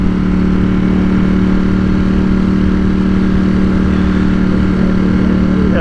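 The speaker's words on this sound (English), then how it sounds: "the sound of the exhaust, the sound of the engine" A petrol engine exhaust revs loudly and steadily up close, with a strong low rumble and harmonic drone holding throughout with no pause.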